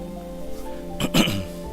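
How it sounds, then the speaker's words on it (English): A short throat clearing with a couple of rough coughs, close and fairly quiet, over a faint steady background hum. "Sorry if I keep coughing. Can't seem to clear my throat today."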